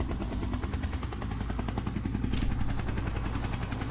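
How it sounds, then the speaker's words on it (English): A helicopter engine and spinning rotor in an Unreal Engine game make a steady, moderately loud pulsing whir that holds evenly throughout, with a brief hissy burst partway through. "helicopter starts the sound"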